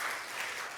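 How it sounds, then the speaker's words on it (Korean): A church congregation claps in encouragement for a member back after treatment for a foot injury, a short soft burst of scattered applause. "계속 힘내시라고 격려로 박수하도록 하겠습니다"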